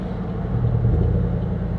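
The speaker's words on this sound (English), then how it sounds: "you really hear the engine when it drops down into the V4 mode. It makes it sound like the truck is basically underwater." A truck engine running in V4 mode through a Carvin progressive exhaust gives a deep, muffled, steady rumble up close, with a slight swell midway through.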